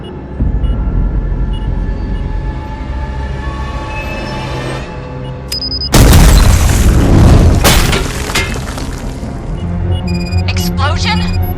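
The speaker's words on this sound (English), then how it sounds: "Explosion? No more fast way up." In Robocop Rogue City, a loud explosion booms suddenly after a rumbling ambient stretch, followed by debris and metallic clatter. Low, steady machinery-like noise runs throughout.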